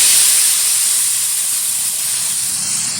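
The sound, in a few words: water poured into fried spice paste, sizzling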